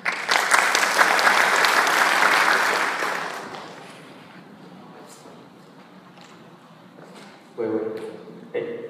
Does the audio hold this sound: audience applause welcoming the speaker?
yes